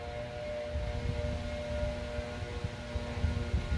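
A distant leaf blower drones steadily along a hiking trail, a continuous low engine hum with faint tonal whine sustained throughout, no voices present.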